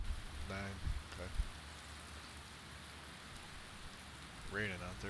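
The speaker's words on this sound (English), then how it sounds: "Raining out, there we go." Rain pours steadily in a flight simulator game as a continuous broadband hiss, with a person speaking briefly at the start and again near the end.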